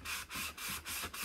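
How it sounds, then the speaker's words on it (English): Repeated back-and-forth sanding strokes rub the edges of a chalk craft piece, about five close, steady passes in a quick regular rhythm, heard alone. "we're gonna sand the edges"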